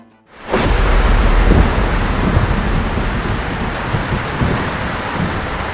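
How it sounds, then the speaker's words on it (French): Heavy rain pours down suddenly after a brief quiet moment, a dense, loud, continuous roar with low rumbling underneath. "Et soudain, la fameuse pluie."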